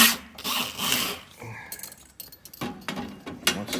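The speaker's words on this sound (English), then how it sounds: "For whatever reason, I'm doing this backwards, holding the torch in my right and pliers in my left. And we're just gonna try and pull." MIG welder wire is pulled with pliers out through the torch of a Hobart Handler 140, short metallic rubbing and scraping pulls in uneven bursts, close and moderately loud.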